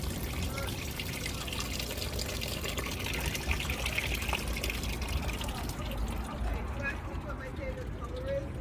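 Water drains steadily from an old car's radiator, a continuous trickling, splashing flow close by that runs without a break.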